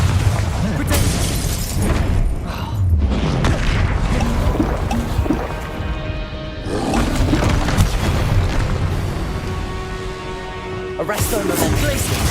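Spells cast in Hogwarts Legacy gameplay, including freezing, fire and explosive curses, make loud, continuous booming blasts and roaring magical bursts, one after another, with a voice speaking in places.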